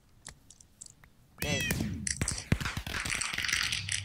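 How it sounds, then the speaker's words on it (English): Cats in the video game Minecraft meow in a burst of several overlapping, high, wavering cries, loud and close, after a few faint clicks. "Here are my cats."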